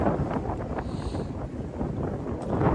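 Gale-force wind batters a Big Agnes Copper Spur HV UL1 tent, a loud, close, continuous rumbling roar with buffeting surges and no talk.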